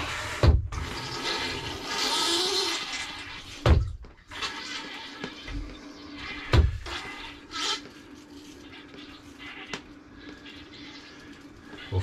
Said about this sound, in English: underneath the toilet when we flush it